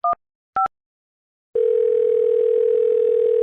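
Telephone line tones on a call to a podcast's voicemail: two short keypad-style beeps, then a steady, loud pulsing ring tone that runs unbroken to the end, with no voices.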